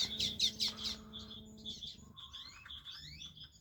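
Small exotic birds, including a Bengalese finch, chirp in an outdoor aviary with bright, repeated high tweets and quick calls, close and overlapping in short bursts.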